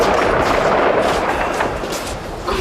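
Explosions rumble in the background of the Bosnian war at Grbavica in 1992, a dense, continuous roll of loud distant blasts and gunfire-like cracks with no speech.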